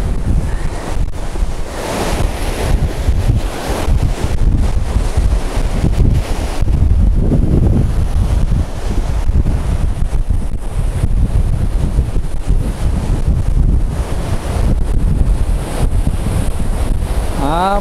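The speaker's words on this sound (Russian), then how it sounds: "полезу повыше, чтобы посмотреть на эти волны" Stormy sea at Simeiz, Crimea, near Mount Koshka: loud surf crashes against rocks under strong wind buffeting the microphone, a constant roar with surging waves.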